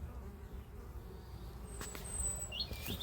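Honeybees buzzing around a beehive in the sun, a faint steady hum of many wings with a few individual bees passing close by near the end.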